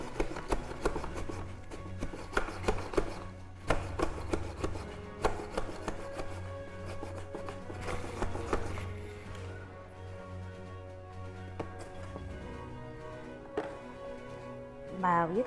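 Food is rubbed on a multi-purpose grater in a home kitchen, producing rhythmic scraping and rasping strokes with pauses between them, while a voice talks over it.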